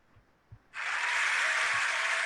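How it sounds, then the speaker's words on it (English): After a brief near-silence, a canned burst of applause kicks in suddenly and holds steady and loud to the end. "Yay for the fake clapping noise."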